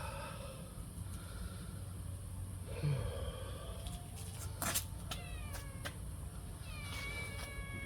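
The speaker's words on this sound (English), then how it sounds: "Good cat." A pet cat meows several times indoors, the calls fairly faint over a steady background hum, with short sharp noises in between.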